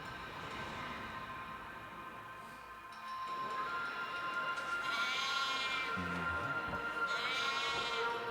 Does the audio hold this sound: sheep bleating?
yes